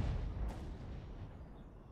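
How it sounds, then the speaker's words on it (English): A cannon tower fires in the pirate game Atlas: one deep, muffled boom at the start that fades into a low rumble. "Is the cannon tower firing now?"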